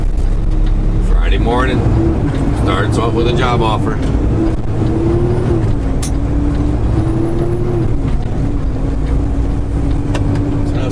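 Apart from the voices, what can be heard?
cars in traffic beside a truck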